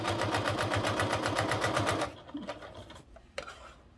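A sewing machine runs a rapid, even stitching rhythm 1/8 inch from the edge of fabric, securing it to a lining for a travel cord organizer. It stops about halfway, leaving faint handling noises.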